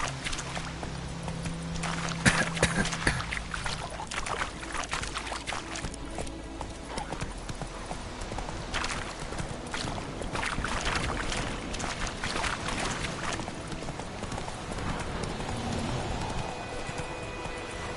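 A horse gallops in The Witcher 3: Wild Hunt gameplay, its rapid clip-clop hoofbeats drumming continuously with wind and ambient game sound, loud and close throughout.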